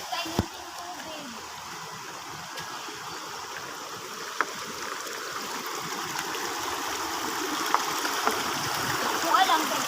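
Steady rushing stream water flows throughout, a broad continuous wash with occasional small splashes and faint voices in the background.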